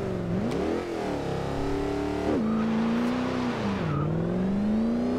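A 2005 Mercedes-Benz SLR engine in Forza Horizon 2 revs loud and close, its pitch rising and falling through several throttle swells across the whole stretch with no voices.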